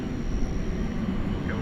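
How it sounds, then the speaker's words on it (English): A small SkyWest regional jet takes off at night at Dallas Fort Worth airport, a steady broad engine roar filling the background at a constant level, distant rather than close, with no clear voices. "So a little Sky West taking off there"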